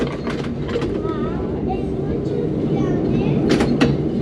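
A Christchurch heritage tram rolls along on a city tour, its steady rumbling close by under a few faint squeals and clatters of the wheels and car.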